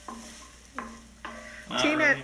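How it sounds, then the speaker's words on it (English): Onions sweating in a pan for Brunswick stew, three soft stirring scrapes followed by a brief louder clatter over a quiet sizzle. "So just looking to get a little bit of a sweat on the onions."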